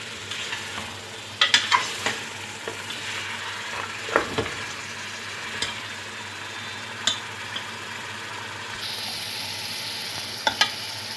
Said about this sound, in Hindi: मसाले में जो है मैंने गोश्त शामिल कर दिया है। अब इसको थोड़ा सा भून लूँगी मैं।